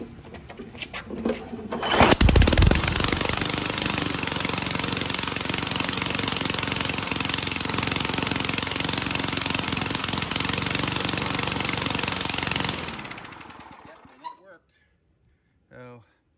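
A Tecumseh 3.5 engine on a 1980s Craftsman lawn mower with its muffler: after a couple of pulls it catches and runs loud and steady for about ten seconds, then sputters and dies, leaving a short moment of quiet.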